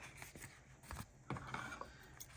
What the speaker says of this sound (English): I'm just going to cut through both pieces until I get to that spot there